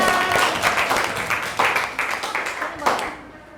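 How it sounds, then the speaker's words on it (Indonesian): A class of children claps together in a school room, a dense burst of hand claps that starts loud and gradually thins, with a few sharper rises near the end. "Kasih tepuk tangan."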